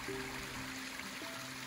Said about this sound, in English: picturesque little stream with little waterfalls in this dense forest.